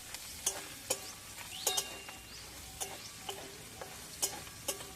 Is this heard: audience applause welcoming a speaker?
no